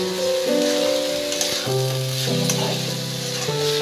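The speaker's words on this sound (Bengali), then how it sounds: "চাল আর ডালটাকে মশলার সাথে একটু কষিয়ে নেব।" Gobindobhog rice and lentils sizzle steadily as they are sautéed with spices in a pot for vegetarian khichuri, a loud continuous frying hiss with a sustained musical tone running beneath it.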